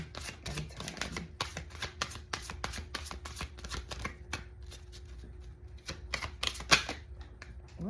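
Tarot cards are shuffled close by in a quiet room, giving soft, rapid riffling clicks and taps in uneven bursts for several seconds.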